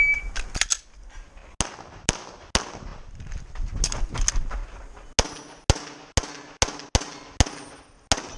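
Gunshots at a practical shooting match stage, a string of loud sharp cracks near the shooter, irregular early then a faster evenly spaced run of about seven shots at the end.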